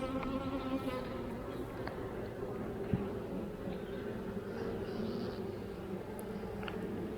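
Honey bees buzz around a hive frame in a dense, continuous drone, many insects humming together close by at a low, even level.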